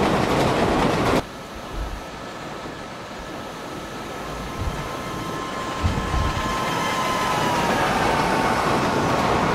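A train passes in the Indian Train Simulator game (MSTS), giving a steady rolling rumble with occasional clunks and a faint tonal whine, loud and close throughout.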